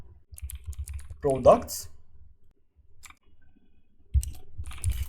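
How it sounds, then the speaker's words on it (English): Keystrokes on a computer keyboard while entering a SQL update command, a short cluster of clicks near a speaking voice, with brief taps later. "I simply type update"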